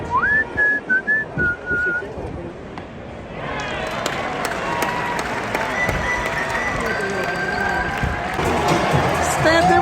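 At a Yankees spring training ballpark, a whistle theme plays after a strikeout, a clear whistled melody over the stadium PA, then crowd cheering and applause swell and carry on with people talking nearby.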